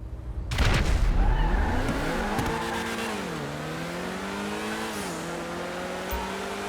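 Two Grotti sports cars, a Cheetah Classic and a Turismo Classic, launch in a Grand Theft Auto V drag race, engines roaring loudly then climbing through rising gear shifts, with a brief burst and steady high-revving drone, no talk.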